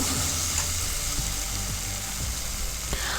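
Chicken curry with coriander leaves is stirred in a pan, a loud continuous sizzle with occasional scraping strokes of the spoon against the metal, close and unbroken, no speech.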